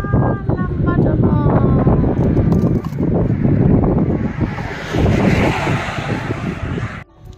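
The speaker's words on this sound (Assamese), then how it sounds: "হাৱাটো বঢ়িয়া মাৰিছে ন ঠাণ্ডা নদীৰ পানীৰ পৰা" Wind gusts across a long bridge over a river, blasting loudly into the microphone in a continuous rumbling roar with brief lulls, then cutting off near the end.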